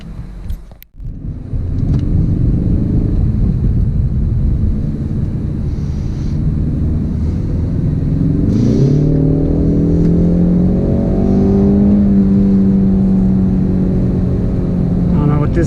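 A Ford Mustang EcoBoost is driven hard after a sharp knock, its engine note climbing steadily and holding a strong rising drone heard from inside the cabin, with some voice faintly underneath.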